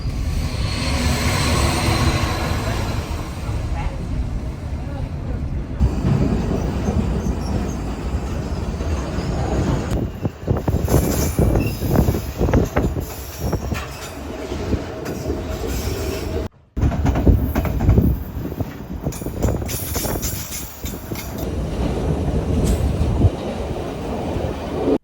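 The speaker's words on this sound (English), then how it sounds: "The train will actually stop and pick up hikers." A White Pass Railroad train rolls steadily along its tracks with a constant rumble, rhythmic clatter and bursts of high wheel squeal, loud and close throughout.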